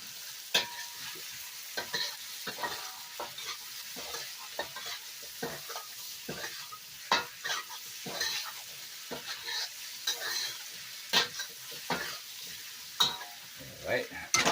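Onion added to black bean sauce in a stir-fry pan, with a soft continuous sizzle and a string of sharp scraping and tapping stirs at an irregular, lively pace, heard close up.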